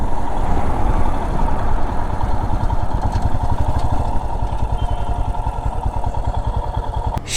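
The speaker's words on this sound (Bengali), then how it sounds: "সেরা পারফরমেন্স দিচ্ছে আমার এই বাইক" A motorcycle engine runs loudly and steadily on a ride home from Massanjore, with a fast, even, throbbing rumble throughout and a brief click near the end.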